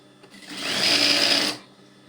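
A sewing machine runs a quick burst of stitching on a bridal bedspread, the motor whirring up loudly for about a second before stopping, with no voices over it.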